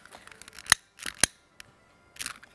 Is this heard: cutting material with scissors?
yes